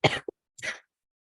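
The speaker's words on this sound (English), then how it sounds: "sometimes I will have this random coughing fits that I have no control over" A person recovering from flu coughs twice in quick succession, then once more after a short pause; the coughs are close, abrupt and harsh, with silence around them.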